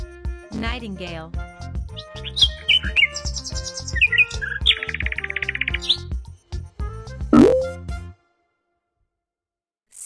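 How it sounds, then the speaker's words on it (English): A nightingale sings quick trills and bright chirping phrases over background music, ending abruptly in silence. "Nightingale."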